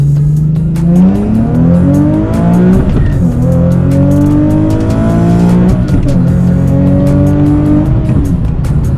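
A Nissan Z engine pulls hard under full acceleration, loud and close, its revs climbing in long rising sweeps broken by two quick gear shifts, with no talk over it.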